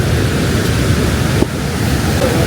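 A mountain river flows along the Manimahesh Yatra pilgrimage trail, heard as a steady, loud rush of water with no pauses and no voices.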